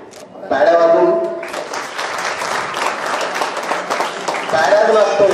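Sustained audience clapping fills an award ceremony hall, loud and continuous for several seconds, with a voice speaking over it at the start and end.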